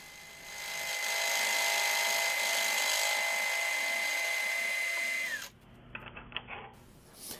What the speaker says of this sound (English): I'm going to use one of these little quarter rounding tools on the top of the bushing and just put a nice radius on the top edge